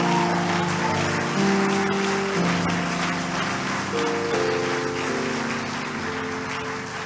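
Church congregation clapping during a worship service, a steady wash of applause mixed with sustained musical tones from instruments throughout, fairly loud and continuous.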